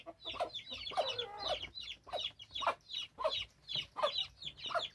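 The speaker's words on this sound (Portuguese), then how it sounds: "Hoje mostrando aqui nossa criação de pato" Ducks and ducklings on a small duck farm give rapid, repeated quacking and chattering calls in rhythmic bursts, fairly close, with no talk over them.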